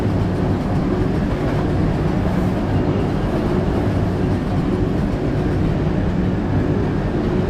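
A subway train runs with a loud, steady rumble and roar of wheels on rails, continuous and close throughout with no speech.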